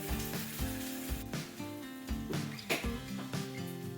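Crackling, popping sizzle of an egg frying in butter in a pan, bursts rising and falling in a busy rhythm, close up with no talking.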